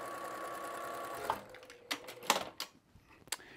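A sewing machine stitches batik quilt block pieces with a quarter-inch seam guide, a faint steady whir that stops, followed by a few sharp clicks and handling taps, no talk.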